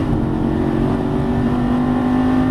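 Lamborghini Gallardo Superleggera LP570-4 engine pulling hard after an upshift, a loud, steady, close-up drone whose tone climbs gently over a couple of seconds, with no voices over it.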